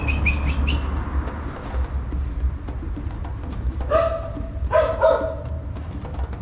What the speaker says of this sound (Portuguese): Tem um cachorro ali